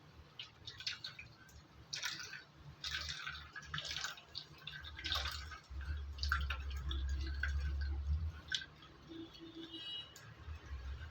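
Freshly ground coconut milk is strained for Tamil appam batter, giving irregular drips and splashes, then a steadier trickling pour in the middle, close and moderately loud.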